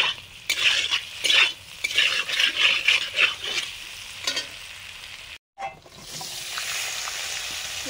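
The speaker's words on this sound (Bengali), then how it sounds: "একেবারে ফোড়ন দিয়ে মাংসের আলুগুলো ভেজে তুলে নিয়ে পেঁয়াজটা দিলাম" Potatoes for a meat curry fry with tempering spices in a pan, giving a close, steady sizzle under bursts of spatula stirring and scraping that pause briefly, then return as a softer, even hiss.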